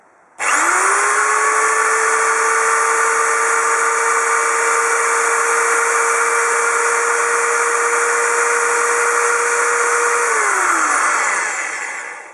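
An AMS 500 W electric drill spins up and runs idle with a steady, loud motor whine for about ten seconds, then winds down as it is switched off.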